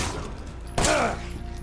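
A single loud gunshot from the video game Resident Evil 7 cracks out close and sharp, its burst ringing briefly over low background game ambience.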